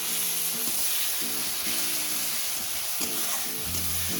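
Tomato masala being sautéed and stirred in a pan for Bhola fish jhal curry, a steady close sizzle broken by repeated scraping, stirring strokes, with no talking.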